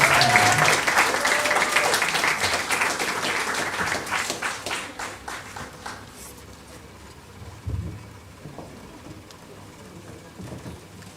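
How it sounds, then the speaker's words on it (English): Audience clapping at a 2023 graduation ceremony, loud and dense at first, then thinning and fading over several seconds to scattered claps and quiet room noise. "Another round of applause."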